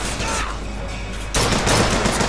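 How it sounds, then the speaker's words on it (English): Carbine gunfire in the BioShock video game, a sudden dense burst of shots erupting partway through and continuing loudly over a steady background hum. "Let's try out this carbine,"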